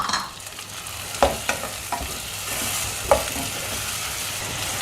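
Onions sautéing in a pan for a fish curry, a steady soft sizzle with a few sharp spoon scrapes and taps against the pan, close and alone with no talk.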